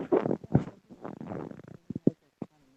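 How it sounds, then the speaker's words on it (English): Fart-like rumbling noises come over a call line in several short, irregular bursts, some long and gurgling, others quick sharp blips, with brief gaps between them. "Why are you farting?"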